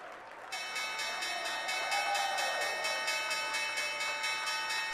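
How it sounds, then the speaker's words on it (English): Applause at the New York Stock Exchange closing bell, a sustained ringing bell tone under a bright wash of clapping from the trading floor, steady throughout after a brief quieter start. "the bell ringers at the New York Stock Exchange grinned and clapped like people who'd unexpectedly survived a disaster"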